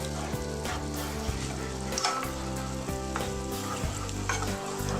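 Cornstarch being stirred into simmering apple cider sauce with apples, a busy bubbling sizzle under repeated scraping and clinking of a utensil against the pan, close and fairly loud, no voices.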